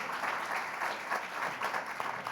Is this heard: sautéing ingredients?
no